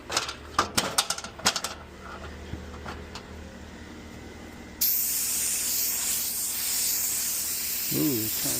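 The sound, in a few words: spray gun spraying base coat of paint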